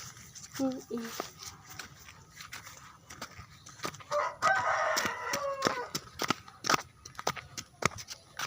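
A rooster crows near a village road on the way to kindergarten, its call rising in the middle amid chicken clucks, sharp clicks and steady talking throughout.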